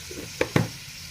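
Stuffed okra with spice filling dropped into hot oil in a pan, two quick bursts of sizzle and splatter close up over a faint steady hiss.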